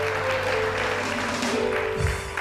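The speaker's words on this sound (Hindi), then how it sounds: "तो जी माहम के लिए बहुत सारी तालियाँ।" A studio audience on a TV show gives a short round of steady applause, with a faint tonal hum and a brief voice-like sound near the end.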